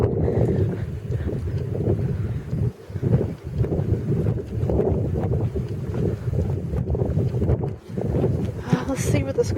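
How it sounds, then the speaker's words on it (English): Wind gusts through the woods along a hiking trail, a steady, close rumbling roar buffeting the microphone with brief lulls and no clear talk. "Wind's back."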